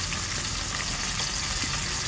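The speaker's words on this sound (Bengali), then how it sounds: "এদিকে মাছ ভাজা হচ্ছে" Dense, steady crackling sizzle of chital fish frying in hot oil, loud and close throughout, with no talking over it.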